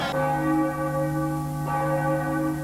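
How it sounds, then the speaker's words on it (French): Church bells ring out steadily in Nord-Pas-de-Calais, a sustained, resonant peal with layered tones, loud and close, with a second strike partway through and no voices. "Les cloches et les carillons sont une caractéristique du Nord-Pas-de-Calais"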